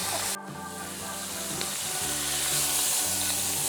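Beef chunks searing over a high flame for pot roast, giving a steady, close, loud sizzle and crackle of hot oil that runs the whole time with no talking.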